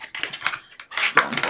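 Bone folder pressed and rubbed along the creases of a small paper box measuring 5 by 1½ by ½ inches, a few short scraping and tapping strokes in quick irregular bursts, close and dry.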